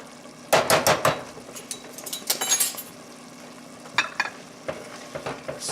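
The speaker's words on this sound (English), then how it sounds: "Stir that all in there." Flour being stirred into onions and reduced wine in a pot for French onion soup, a few bursts of scraping and clinking utensil strokes over a soft background sizzle.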